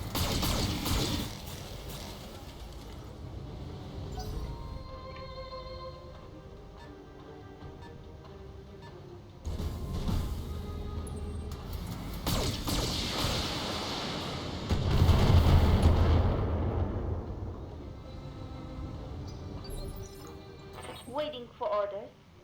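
Blackjack mech weapons in the BattleTech video game fire in heavy, booming bursts, with the loudest volleys around the middle and late stretch over a constant rumbling backdrop, while people talk over the action.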